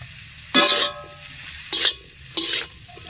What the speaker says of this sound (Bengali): এবারে চাউমিন আবার খুব ভালোভাবে মিশিয়ে নেব।